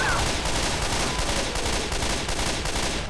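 Mounted big gun firing in Left 4 Dead 2, a loud, continuous rapid burst of heavy automatic shots hammering without pause through the whole stretch.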